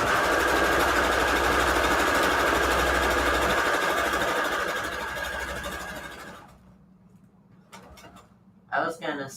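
A home sewing machine threaded with white thread in the bobbin and on top stitches string quilt patchwork covers, running as a steady, rapid mechanical whir for about six seconds before stopping, followed by a short burst of voice.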